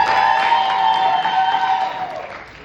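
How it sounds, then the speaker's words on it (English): An audience applauds at a documentary premiere Q&A, a dense, steady wash of clapping with some cheering that holds for a couple of seconds and then starts to fade. "You all, let's clap for him."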